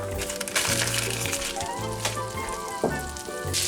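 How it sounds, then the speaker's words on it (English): Butter sizzling in a hot skillet on a home stove, a steady close crackle and hiss with a few louder pops, while quiet talk and kitchen sounds run underneath. "I'm going to put a couple of tablespoons of butter in this"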